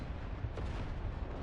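A single cannon shot fires in a D-Day themed war video game: one brief, muffled boom rising out of a quiet, steady background rumble, with no speech.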